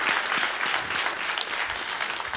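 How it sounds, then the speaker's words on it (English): A church congregation claps hands in praise during a worship service after a baptism welcome, a brief, steady burst of many hands applauding at moderate volume. "Let's give the Lord a hand clap of praise."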